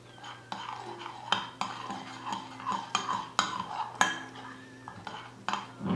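A spoon stirs a homemade collagen face mask mixture in a bowl, giving a run of close, irregular scraping clinks against the bowl with no talk over it.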